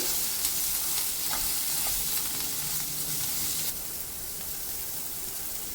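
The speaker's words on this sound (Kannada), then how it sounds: "ತೆಂಗಿನ ಎಣ್ಣೆ ಬಿಸಿಯಾದ ನಂತರ ಏನು ಒಂದು ಈರುಳ್ಳಿನ ನಾನು ಕಟ್ ಮಾಡಿ ಇಟ್ಕೊಂಡಿದ್ದೀನಿ ಅದನ್ನು ಇದಕ್ಕೆ ಹಾಕಿ ಹುರಿತಾ ಇದ್ದೀನಿ." Chopped onion frying in hot coconut oil for a Mangalorean fish curry, a steady close hiss and sizzle with occasional stirring scrapes and a slight drop in intensity partway through.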